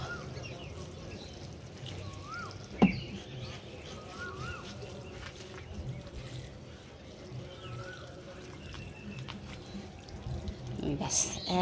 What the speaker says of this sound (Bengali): এবার এখানে একটু জল দিয়ে ভিজিয়ে দেবো